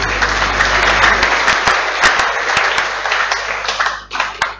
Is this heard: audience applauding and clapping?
yes